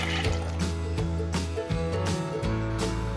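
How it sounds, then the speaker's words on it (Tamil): Two tumblers of water poured from a cup onto one tumbler of washed lentils for pongal sambar: a steady, moderately loud fill over a constant tonal background. "அதுக்கு 2 டம்ளர் தண்ணி ஊற்றிக்கலாம்."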